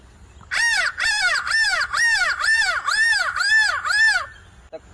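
A person imitates a crow, giving about eight loud, rhythmic caws in quick succession, each harsh and nasal, then stopping abruptly.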